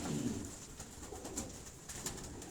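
Pigeons cooing at a farm house, a faint soft coo with low murmuring tones heard briefly against quiet outdoor background noise.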